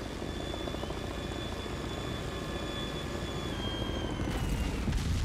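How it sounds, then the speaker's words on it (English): A Chinook helicopter flies in a video game, its low rotor drone and rumble steady throughout, with a faint high whine above, then a louder rush of noise near the end. "the Chinook just took up from, took off from the northwest uh, trader zone"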